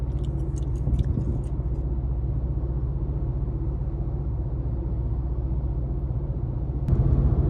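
A car on Georgia backroads near the Florida state line hums along with a steady low engine and road rumble throughout, and brief ticking noise appears near the start.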